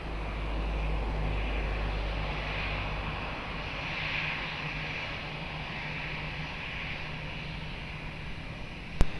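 A departing airplane at Lisbon Airport roars steadily as it takes off, a broad continuous engine rumble holding at moderate loudness for several seconds before a brief sharp click at the end.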